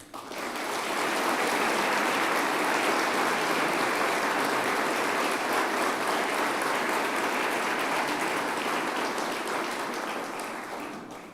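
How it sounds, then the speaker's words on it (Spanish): Sustained audience applause at a speech by the Argentine president, a dense steady wash of clapping that swells in after a second and holds loud for about ten seconds before easing slightly. "y por quien pido un aplauso"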